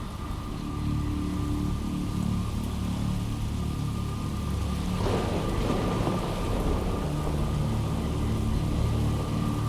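In the video game Jenny LeClue, steady heavy rain pours down while a deep rumble of thunder rolls through midway, continuous and fairly loud with no voices.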